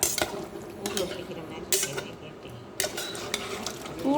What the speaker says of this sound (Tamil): தண்ணி ஊற்றி எடுத்து கிண்டி கொண்டிடுறேன்.